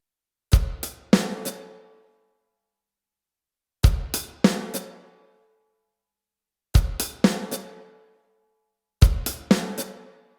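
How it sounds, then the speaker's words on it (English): Drum kit playing the opening beat of a 16th-note groove, left-foot hi-hat with kick, then snare and hi-hat strokes in short bursts, repeated four times with pauses between, close and clear with no talking. "So beat 1, it's going to be left foot and kick drum on the first count."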